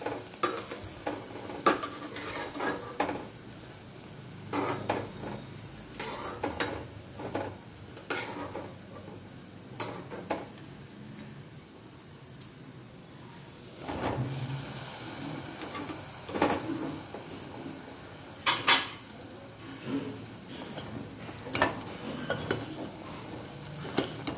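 Fried gulab jamun dropped into sugar syrup and stirred in a pan, with soft sizzling and intermittent clinks and scrapes of a spoon against the vessel, close and unaccompanied by voices.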